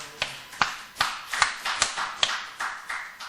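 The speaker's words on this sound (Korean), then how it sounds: "박수로 환영합시다." Church congregation clapping to welcome a visiting pastor, heard as a sparse series of about nine distinct, fairly quiet claps at a steady, slightly uneven rhythm, with no voices.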